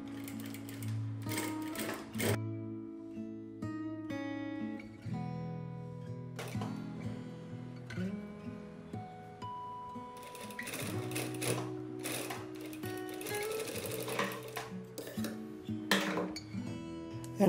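Close, steady whirring and rhythmic needle clatter from a sewing machine fitted with a gathers/pleats presser foot, stitching in several runs with short stops and changes in speed, with no talking.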